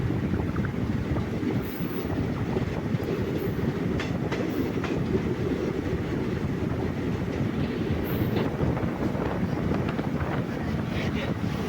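Sengottai Express running on the tracks near Manaparai on the Thanjavur–Madurai route, heard from inside as a steady loud rumble with faint clickety-clack and wind buffeting throughout.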